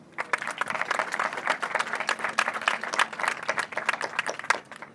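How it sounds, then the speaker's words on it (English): Crowd claps at an outdoor celebration on Parliament Hill in Ottawa, a dense patter of hands lasting throughout at moderate volume, with no talk over it. "Please, big round of applause."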